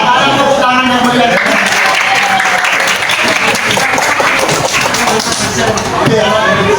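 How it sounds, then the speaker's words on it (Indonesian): Lively applause from a classroom audience during a teaching performance session, loud and busy clapping mixed with cheering voices and chatter throughout. "ada tepuk tangan yang meriah"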